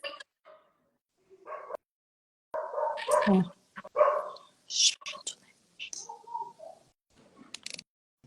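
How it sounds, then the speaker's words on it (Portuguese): A dog in a neighbouring house barks in short bursts through an online video call, with soft whispering voices between and over the barks. "Tem um cachorro atrapalhando bastante"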